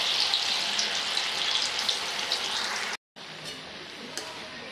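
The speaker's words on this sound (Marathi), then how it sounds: "आवळे आपले छान तळले गेले" Amla (Indian gooseberries) frying in hot oil in a kadhai, a loud, dense, continuous bubbling sizzle close up, cut off briefly before resuming slightly softer.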